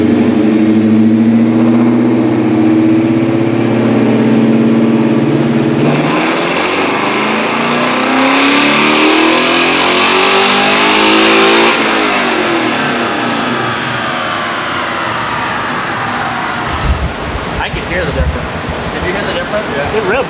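Coyote V8 swapped into a 1967 Ford Mustang revving on a dyno, a loud climbing engine wail sweeping up through the gears over many seconds, with a voice talking over it.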